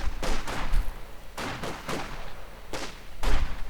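Rifle and pistol shots from an officer and grenadiers in a Company of Heroes-style strategy game battle crack in scattered bursts, several sharp reports close together with echoing tails, loud and without talk.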